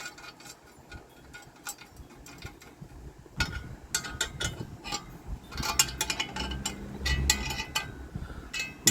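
Small metal parts click and tick as a nut is inserted and fitted while a small drill press is assembled, giving close, irregular clinks and rattles with brief scraping handling noise and no speech.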